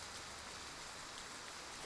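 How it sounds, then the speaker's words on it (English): Rain falling in the video game Project Triangle Strategy, a faint, steady, even patter of rain on surfaces with no other sounds. "Rain! Honest to goodness,"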